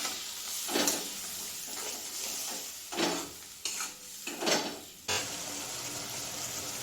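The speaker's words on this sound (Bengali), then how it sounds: "এবার এই আদা জিরে সর্ষেটা দিয়ে দিলাম, কাঁচা লঙ্কা" Ginger, cumin, mustard and green chilli hit a hot pan of softened tomato with a little water for a fish curry, giving off hissing sizzles that flare in short bursts as they are stirred.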